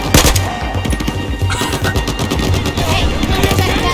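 Rapid bursts of automatic gunfire in the video game Battlefield 4, loud and close, with dense overlapping shots rattling continuously throughout.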